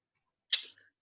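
A brief, fairly faint sneeze rings out once in an otherwise quiet room during a seminar gathering, a short sharp burst trailing off within a fraction of a second.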